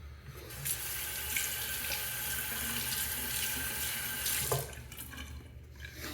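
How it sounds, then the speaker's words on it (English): Tap water runs steadily into a sink for several seconds while something is rinsed under it, a bright continuous splash that cuts off near the end, leaving a quieter room. "as soon as I rinse"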